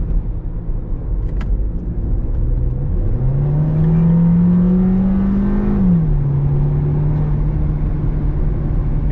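A Volkswagen Touran engine revs loudly in sport mode, a droning whine that climbs in pitch, holds steady for several seconds, then drops back to a lower steady drone, close and continuous.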